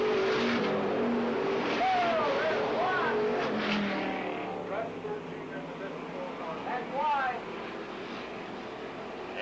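Race cars roar around a dirt track, their engines rising and falling in pitch as they pass, with a voice talking over the steady racing noise.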